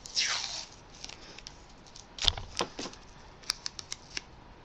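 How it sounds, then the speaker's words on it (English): Adhesive tape torn from a roll and pressed along the edges of craft pages, heard as a quiet close-up rip followed by a few soft, scattered crinkles and taps. "I'm going to put a little bit of tape around the edges"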